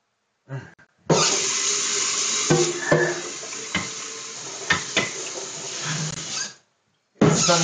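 Hot water gushes and runs steadily from a tap into a drain for several seconds, with small clinks and knocks along the way, then stops abruptly before a brief burst of flow resumes.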